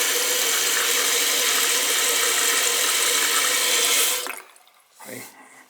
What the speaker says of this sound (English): This has to go in here to fill the bowl up, or it won't flush a second time.